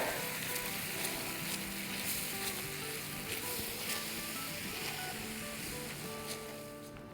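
Caramel butterscotch pudding mixture bubbles and sizzles in a pan over a low flame, a continuous dense hiss held close and even, slowly fading slightly toward the end.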